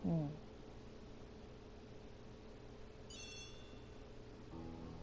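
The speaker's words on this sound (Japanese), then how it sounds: "電話だ。" A telephone rings once in the ABC Murders detective adventure game, a brief trilling electronic ring heard faintly against a quiet low background hum.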